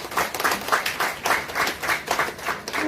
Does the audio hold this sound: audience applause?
yes